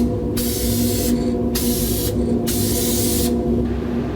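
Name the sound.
spray gun applying clear coat on 1982 Jeep CJ7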